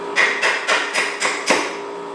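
A claw hammer strikes bolts on a KTM Super Adventure motorcycle rear sprocket hub in a garage, six sharp metallic knocks in a steady rhythm, close and loud with nobody talking.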